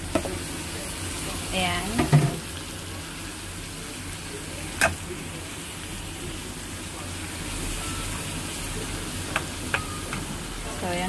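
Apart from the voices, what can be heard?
ground beef being added and sautéed in a pan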